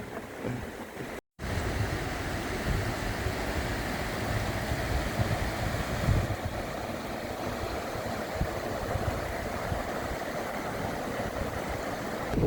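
A river rushing past a campsite, a steady, loud, broadband roar of flowing water that continues unbroken with no talk over it.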